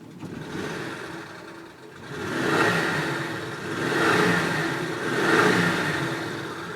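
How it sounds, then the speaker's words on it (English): A 1965 Ford F100 pickup truck engine idles, then revs three times in slow, even swells, each one rising and falling back, heard close and alone. "Let's listen to its engine."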